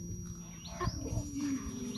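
At a Sunday school, a child imitates a tiger's roar with a low, rough, sustained growl held close and fairly loud for about two seconds.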